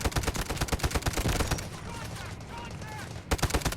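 Rapid automatic gunfire in the mobile shooter Delta Force Mobile, loud bursts of shots in quick succession that briefly pause before resuming.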